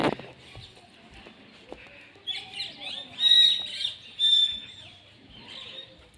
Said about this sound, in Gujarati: સામે પોપટ બોલે છે